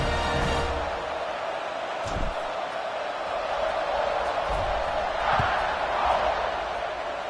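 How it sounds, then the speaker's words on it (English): Stadium crowd in the College Football 26 video game keeps up a broad, steady roar before a kickoff, with a few brief thuds and swells of cheering rising out of the massed noise. "this crowd is feeling themselves after that last drive"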